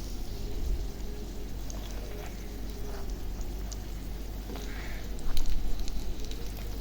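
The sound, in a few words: frying snacks in a pan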